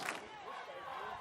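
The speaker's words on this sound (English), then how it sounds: "the crowd is really fired up here on the near sidelines" Spectators cheering along the near sidelines at a high school football game, a brief faint wash of crowd voices and shouts heard from a distance.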